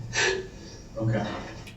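A man gasps and heaves for breath in quick, ragged bursts, hyperventilating close by in an interview room, with a couple of loud breathy pulls and faint background hum.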